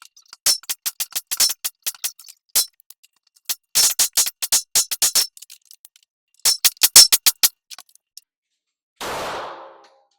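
Rapid strings of suppressed gunshots through a Dead Air Mojave 45 suppressor, fired in quick bursts of sharp, muffled cracks with brief pauses between strings, ending with a short hiss.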